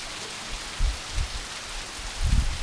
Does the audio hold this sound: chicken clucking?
no